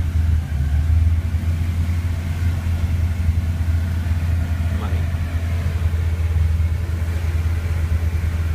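A Rotec radial aircraft engine idles steadily on a test stand, its low, even rumble loud and continuous throughout.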